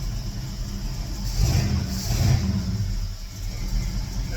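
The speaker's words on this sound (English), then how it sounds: "And it's idling, which it totally should not be doing." A 1971 Ford Torino engine runs steadily nearby with a low, rough rumble, swelling slightly in the middle before settling back to an even idle.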